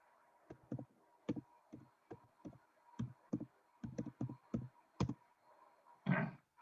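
Computer keyboard keys tapped out in a short run of distinct clicks, about a dozen sharp keystrokes in uneven rhythm, close and fairly quiet, with a slightly heavier thump at the end, no talking.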